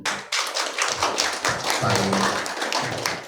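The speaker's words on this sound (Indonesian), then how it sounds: "Tepuk tangan untuk Kominfo." Applause from an audience at a government regulation outreach meeting with press companies, a dense burst of many hands clapping that holds steady for a few seconds and fills the room.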